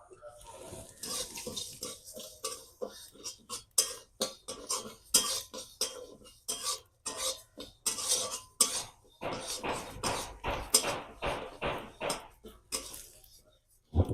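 Mung dal, about 100 grams, dry roasting in a kadai on the stove, with close, repeated scraping and clinking of a spatula against the pan in a steady stirring rhythm.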